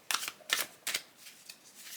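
Cards are riffled and shuffled in three quick crisp bursts, then a softer rustle, close up with no talking.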